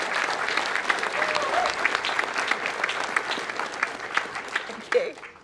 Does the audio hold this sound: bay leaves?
no